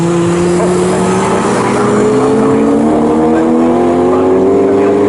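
Historic 1960s racing cars, including a Datsun 240, at Snetterton circuit, with loud, sustained engine roar and rising pitch as a car pulls down the straight, steady throughout with no talk.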